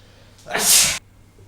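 A single sharp, breathy sneeze, a short loud hissing burst of about half a second, heard alone between stretches of quiet.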